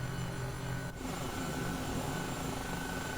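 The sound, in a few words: helicopter engine in flight simulator video game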